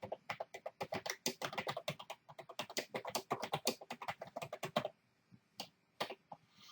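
Fast typing on a computer keyboard, close and crisp, with a dense run of key clicks for about five seconds, then a pause and a few scattered final keystrokes.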